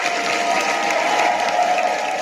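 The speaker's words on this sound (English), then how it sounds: "I give that a round of applause." An audience breaks into steady applause during a live spiritual coaching broadcast, a dense even wash of clapping heard close and alone for a couple of seconds.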